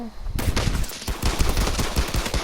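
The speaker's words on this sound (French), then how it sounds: "Je rate toutes mes balles de snipe" Rapid gunfire from the video game Fortnite, a dense run of sharp loud shots and bursts that starts abruptly and keeps going without letup, with no talk over it.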